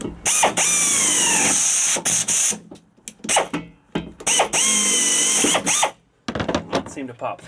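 A power drill bores a half-inch hole for a Hornblasters 540 train horn kit's air line, whining in two long sustained runs with brief stops and restarts between them, close and loud.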